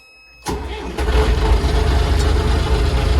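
An MTZ tractor engine cranks and catches with a loud burst, then settles into a steady, heavy rumbling idle close by.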